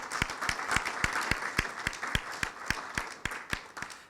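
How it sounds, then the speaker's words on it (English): Applause from a crowd at a charity golf event, a steady patter of many hands clapping with sharp individual claps standing out, moderately close and continuing for several seconds without talk. "I'd like to give them a round of applause."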